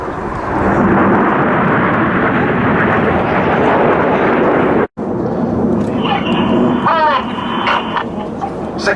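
Red Arrows RAF jets roar loudly through a flying display, a broad continuous rush of engine noise with a brief cut, then a commentator's voice over the fainter jets.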